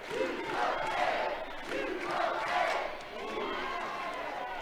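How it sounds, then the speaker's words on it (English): A crowd at a college softball game between Oklahoma State and Arizona cheers and roars in swelling waves, rising twice to loud peaks before settling into a steady background din. "now the crowd is really into it"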